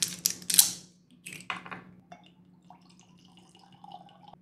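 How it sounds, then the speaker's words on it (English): Crown Royal Regal Apple whisky, served neat with no ice, is poured into a glass: a few sharp clinks of the bottle and glass, then a faint, thin trickle of liquid. No one speaks. "Next up, I'm gonna pour the Regal Apple."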